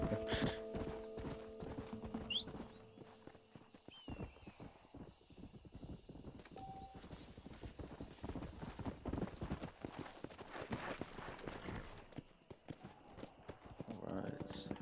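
Horse hooves clip-clop in a steady trotting rhythm in the video game Red Dead Redemption, with a brief whinny and occasional talk mixed in.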